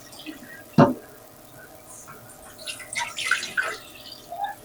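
Excess water being poured out of a cooking pot in a home kitchen, with a sharp splash early on followed by softer intermittent drips and trickles; a faint voice is also present.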